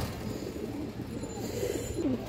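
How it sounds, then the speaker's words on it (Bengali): A large pair of Muslodom pigeons cooing, soft throaty coos close by over a steady low background hum, with a couple of fuller calls toward the end. "এই দেখেন বিগ সাইজের এক পেয়ার মুসলদম কবুতর"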